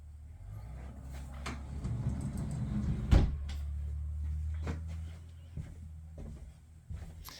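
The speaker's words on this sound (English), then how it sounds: "Closet doors, pretty straightforward, if I can even get it open." A closet door in an older 1970s-era home is pulled open with some effort, giving muffled rubbing and rattling and one sharp knock, set against a low room hum.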